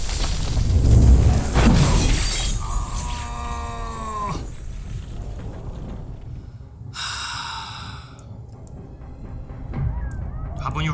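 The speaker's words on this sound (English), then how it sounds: "The glass is gonna break too." Glass shattering in a dramatic TV scene, a loud burst of breaking shards near the start, followed by swooping tonal effects and a bright crackling spray later, all within a busy mix of score and effects.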